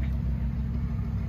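A Lamborghini Huracán STO idles and rumbles nearby, a low, steady, throaty engine drone holding level across the moment with no distinct revving.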